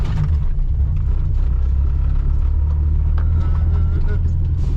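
A 1972 Ford Pinto with a 4-speed rolls down the road with a loud, steady low engine rumble and road noise, heard from inside the cabin.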